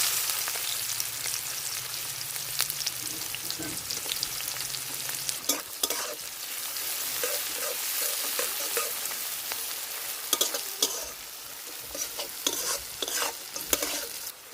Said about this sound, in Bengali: পেঁয়াজটা ভালো করে ভাজে নিছি